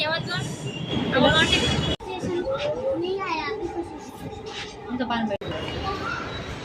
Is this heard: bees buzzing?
no